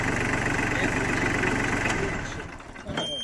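A tractor engine runs steadily at close range with a dense rumble that drops away near the end, followed by a brief clatter.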